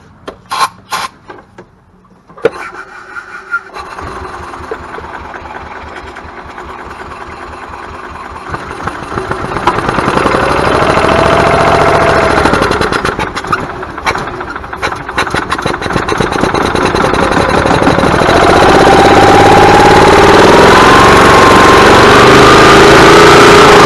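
A gas golf cart engine that wouldn't run cranks after carb cleaner is sprayed into the carburetor throat. A few clattering starter bursts are followed by the engine firing up and roaring into a loud, steady rumbling run close by.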